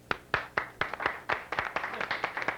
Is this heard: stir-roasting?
no